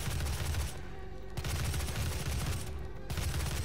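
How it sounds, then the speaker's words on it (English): Assault rifle firing in DOOM, dense rapid bursts of automatic gunfire with two brief pauses between volleys, loud and close, with no talking over it. "The assault rifle is really useful for shooting those imps that are trying to snipe us with fireballs right now"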